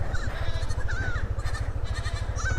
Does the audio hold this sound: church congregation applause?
no